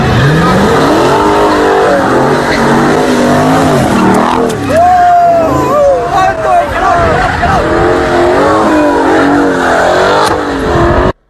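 Dodge Charger skidding around another car and crashing into it, loud engine roar with squealing tires and a swirling skid, crowd chatter underneath and a sudden cut at the end.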